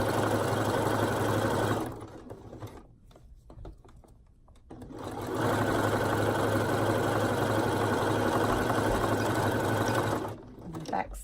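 A sewing machine stitches elastic in two long continuous runs of steady mechanical whirring, close and fairly loud, separated by a quieter pause of a few seconds.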